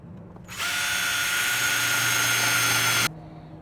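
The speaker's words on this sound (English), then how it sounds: "now we're gonna start drilling" A power drill bores a hole into an Audi A4/S4 roof rack, one continuous high whine of about two and a half seconds that starts and stops abruptly over quiet background.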